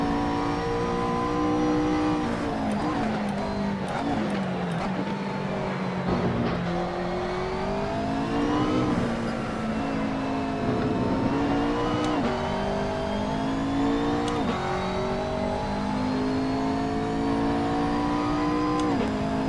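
A BMW M6 race car engine in Assetto Corsa revs hard and climbs through the gears, its loud, steady drone rising and dipping with each shift and carrying on unbroken for the whole stretch.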